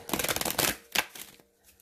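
Oracle cards are shuffled in quick riffling bursts, close and crisp, followed by a few softer taps as the shuffle ends.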